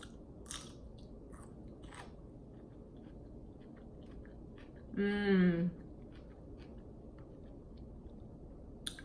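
Cucumber dipped in hot sauce is bitten and chewed close up, with soft crunches and a brief louder chewing burst midway, over a quiet background.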